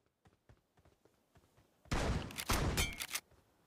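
Shotgun fire in PUBG Mobile: faint scattered shots and clicks lead into a close, loud cluster of blasts in quick succession, roughly two bursts about a second long.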